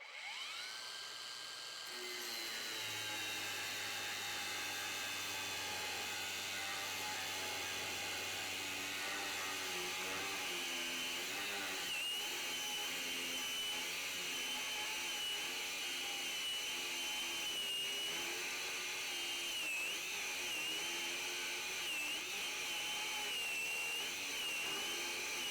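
An Ecosen battery-powered angle grinder spins up and runs steadily for the whole stretch, giving a loud, constant high whine with audible gear noise and no talk.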